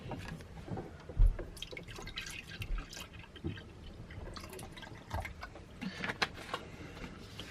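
Milk poured into a pan in a boat's galley, heard as faint, irregular dripping and trickling splashes with a few soft knocks, close and quiet with no talk.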